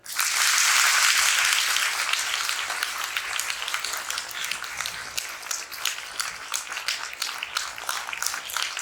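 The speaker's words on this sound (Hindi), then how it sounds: "हाँ, आपके माता पिता के लिए जोरदार ताली।" Audience at a gathering gives loud applause in honour of parents, a dense burst of clapping that slowly thins into scattered individual claps over about nine seconds.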